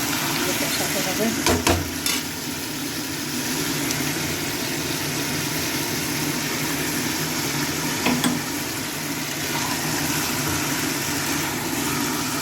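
Spices sautéing in a pan, a loud continuous sizzle that runs through the whole stretch, with a few sharp clatters from the utensil against the pan.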